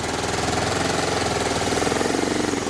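Honda XR motorcycle engine, kick-started and running, close by with a steady, rapid, throbbing idle that pulses evenly throughout, no voices over it.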